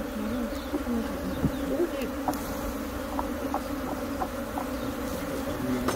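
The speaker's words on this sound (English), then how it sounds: "It's catching all the flying bees." Honey bees fly and buzz around a freshly made hive split, a dense, continuous outdoor drone with occasional faint clicks and knocks.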